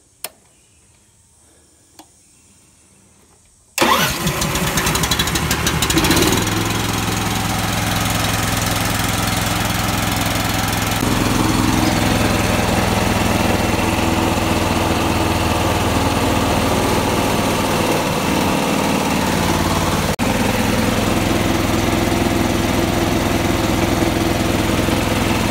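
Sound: Harbor Freight 13 hp truck-mount gas air compressor starting and running

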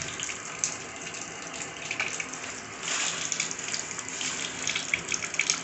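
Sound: tap water running into a sink

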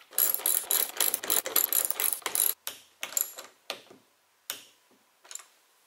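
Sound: tightening hex bolts on roof rack cross bar

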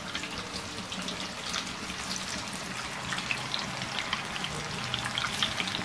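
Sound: potato and spinach pakora frying in oil

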